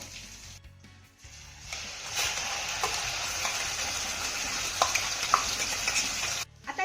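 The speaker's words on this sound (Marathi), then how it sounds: "घातलेलं वाटण आपल्याला तेलामध्ये चांगलं मिक्स करून घ्यायचं आहे" Continuous loud sizzling of paste in hot oil, with scraping stirs and occasional sharp pops; no speech.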